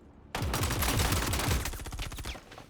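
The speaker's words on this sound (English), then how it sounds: "Laying down covering fire." Sustained automatic gunfire laying down covering fire in a video game, a sudden dense burst of rapid shots close and loud for about two seconds before tapering off.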